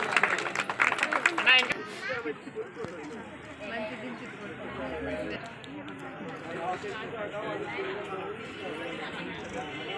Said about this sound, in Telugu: ఒకసారి గట్టిగా చప్పట్లతో అభినందించండి